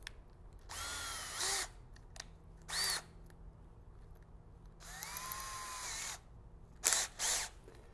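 A 12-volt Makita cordless drill whirs in several short bursts separated by pauses, each rising to a high whine, close by with a faint low hum underneath.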